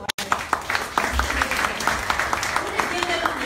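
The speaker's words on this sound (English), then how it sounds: "another round of applause to our" An audience at a panel conversation applauds with a moderate patter of clapping and some distinct claps, while a voice talks over it.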